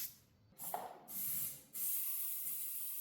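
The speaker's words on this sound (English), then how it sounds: "So we're going to try easy start." Starting fluid hisses from an aerosol can into the engine of an abandoned motorbike, three short bursts with one longer spray, each a sharp airy rush separated by brief quiet gaps, close to the can.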